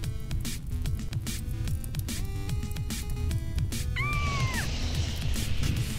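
Cat meowing in the video game Fire Point, a single drawn-out meow near the end over a busy bed of game sound effects and crackling noise, no speech.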